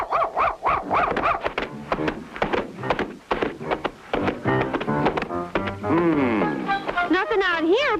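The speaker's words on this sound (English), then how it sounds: "Go away, dog." A cartoon dog from a 1959 circus-themed animation gives a quick run of loud, close barks, then drawn-out whining yelps and whimpers toward the end, with other vocal sounds in between.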